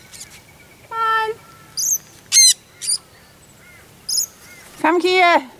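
Pet parrots flying outdoors give a series of sharp, loud squawks and chirps in short separate bursts, with quiet gaps between calls.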